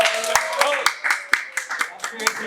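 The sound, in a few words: audience clapping at event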